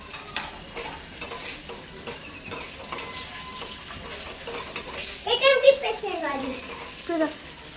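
Paneer fries in a pan for butter paneer masala, giving a soft, continuous sizzle with stirring scrapes. A voice talks over it near the end.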